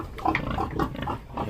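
Close, repeated pig grunts and snorts in quick succession as the pig is bathed in a treatment solution against ticks, with faint splashing water in the background.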